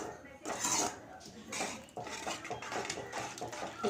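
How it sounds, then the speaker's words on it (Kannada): Spoon stirring curd into brinjal curry in a metal pot, with repeated clinks and scrapes against the pot in an irregular rhythm, close and fairly clear. "ಈಗ ಮಿಕ್ಸ್ ಮಾಡ್ಕೊಳ್ಳೋಣ."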